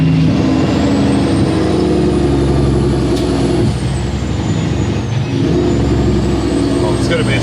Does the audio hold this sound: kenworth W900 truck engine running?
yes